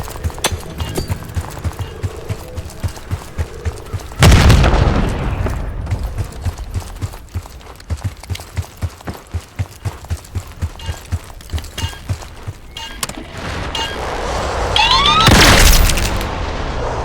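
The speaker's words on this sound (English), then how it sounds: "Grenade, look out!" A grenade explodes in the Call of Duty Black Ops 6 video game: a loud, sudden boom that dies away, then a second blast later, amid a steady patter of footsteps and rattling gunfire.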